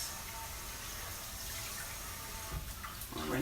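Kitchen tap water runs into a rectangular metal baking pan, a faint steady gush with a brief splashier rise near the end.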